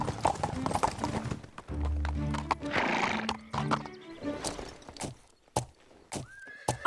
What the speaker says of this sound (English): Come see the little horses!